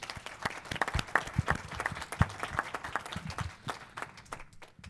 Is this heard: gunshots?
no